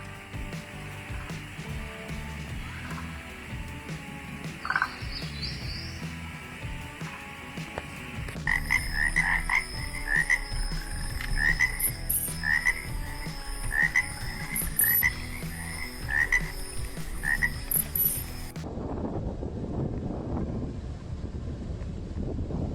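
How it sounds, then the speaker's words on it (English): Chinese flying frog calling outdoors in a loud chorus of repeated short croaks over steady wind rumble, with a rapid rhythmic series in the middle before it cuts to gusty wind. "This is how the Chinese flying frog makes foam nests for laying eggs."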